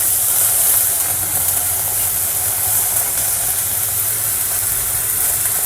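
Mushroom and peas frying in a pan for a mushroom tomato bath, giving a loud, steady, close sizzling hiss throughout with no talk.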